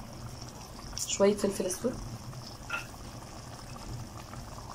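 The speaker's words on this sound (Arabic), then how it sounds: "الصلصه بتاعتي ابتدت تغلي" Tomato sauce bubbles at a steady boil in a pot on the stove, a soft continuous simmering hiss throughout, while a voice speaks briefly over it.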